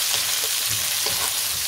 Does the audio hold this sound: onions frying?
yes